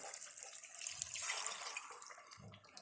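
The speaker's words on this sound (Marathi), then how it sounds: "हे पाणी ओतायचं." A short, soft rush of water pouring into a pot of chicken biryani gravy, with a faint splash and a clink near the end.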